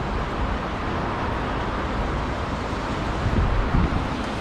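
Steady rushing water from a waterfall fills the scene with broad, continuous noise, close and moderately loud, with wind buffeting the microphone and no talk.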